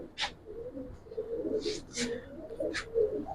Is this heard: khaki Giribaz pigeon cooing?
yes